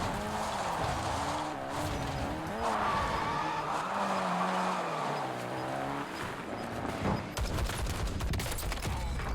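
A vehicle drives in a Warzone match, its engine revving and surging, with skidding tire noise and a burst of gunfire near the end. The engine sound is loud and continuous, and faint voice chatter sits underneath.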